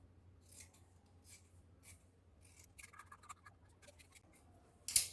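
Scissors snip through fabric for a crop top with V-shaped sleeves, several soft separate cuts spaced across a quiet room, ending in one sharper, louder snip.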